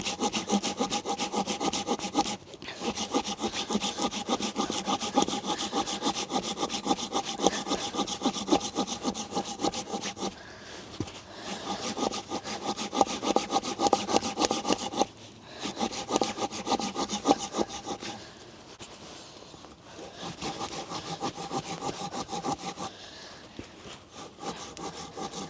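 Hand saw cutting through wood outdoors near a fort in the woods, steady rapid back-and-forth rasping strokes in long runs broken by short pauses, close and loud.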